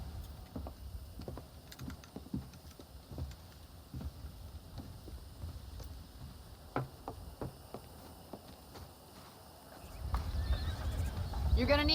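Horses in the Red Dead Redemption video game step and snort, hooves clip-clopping in scattered irregular taps at moderate distance, with a low rumble of movement swelling near the end.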